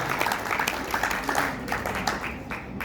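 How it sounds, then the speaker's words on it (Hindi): Audience at a Bharat Vikas Parishad regional executive meeting in Bhilwara applauding, a moderate patter of clapping from a seated crowd, slightly distant, with faint voices mixed in. "एक बार करतल ध्वनि से आप स्वयं का धन्यवाद करें"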